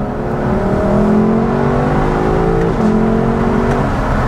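A Lexus LC500 engine revs hard through rising sweeps, with a sharp exhaust crack at a gear shift partway through before the pull resumes. It is loud, close and continuous, with no talking.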